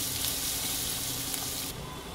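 Chopped ginger, green chili and coriander sizzle on a low flame for aloo patties, a continuous close hiss that drops slightly in intensity near the end.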